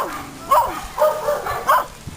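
Dogs on a jungle trail bark in short, separate yips and woofs, about four close barks spread across the moment, fairly loud with a quieter whine between them.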